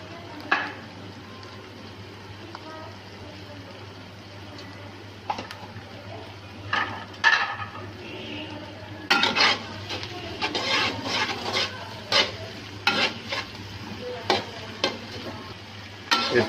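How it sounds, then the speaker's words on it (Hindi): Green chillies and tomatoes frying and being stirred in a pan, with a steady low sizzle throughout and irregular scraping stir strokes that grow busier in the second half; no one speaks. "इसको 1 से 2 मिनट के लिए हमने फ्राई करना है। इसके साथ ही हमने ये टमाटर डाल दिए।"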